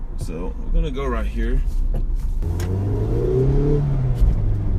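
A 2016 Mazda MX-5 GT's engine revs and climbs in pitch while driving, close and fairly loud, following a brief stretch of someone talking over it.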